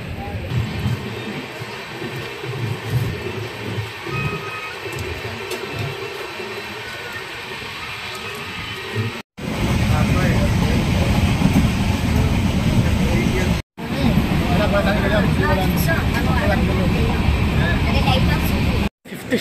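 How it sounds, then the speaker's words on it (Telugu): Kondaveedu Express running on a single electric rail line, a steady loud onboard rumble and rattle of the wheels on the rails that drops out briefly twice, with a quieter stretch earlier and talk over it. "ఇక్కడ మనకి 1 మినిట్ హాల్ట్, 2 మినిట్స్ అయితే ఆగింది ట్రైన్."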